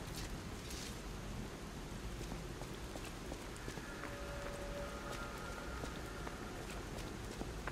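Steady rain falls across a nighttime scene in the video game Lies of P, a continuous dense hiss with a faint high tonal hum from the game running beneath it throughout.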